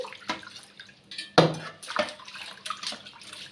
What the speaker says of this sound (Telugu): ఇలా వాటర్తో బాగా ఇలా చేతితో రుద్దుకుంటూ చేసుకోవాలి